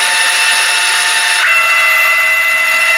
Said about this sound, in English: you can hear how smooth his motors sound